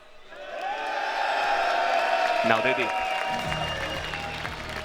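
An esports crowd at a Red Bull Wololo Age of Empires tournament cheers and applauds loudly for a player, a sustained roar with whoops, while a host's amplified voice speaks briefly over it.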